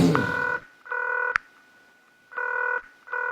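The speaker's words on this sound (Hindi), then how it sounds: "मैं उन्हें जरा फोन करता हूँ" A telephone dials out during an award-show backstage call: a short burst of keypad tones, then several steady electronic tone bursts with gaps, a sharp click between them, and brief muffled voices at the start.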